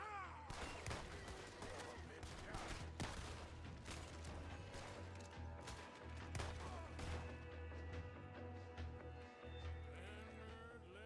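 Video game gunfire in a woodland setting: sharp shots crack out in scattered bursts over a steady low rumble, with people talking, a horse's clip-clop and other game sounds mixed in.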